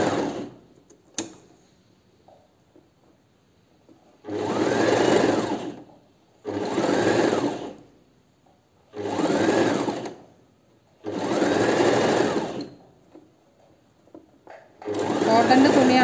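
Sewing machine stitching polyester-mix petticoat fabric in five loud, steady runs of a few seconds each, separated by short pauses, with faint handling noise in the gaps.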